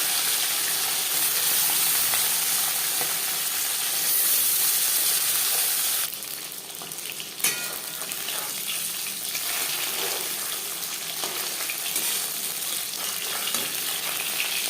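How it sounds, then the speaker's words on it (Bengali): Bele fish frying in oil in a wok, a steady loud sizzle and crackle running throughout with a brief clatter midway, no talking. "সাবধানে অল্প অল্প করে ভাজতে হবে"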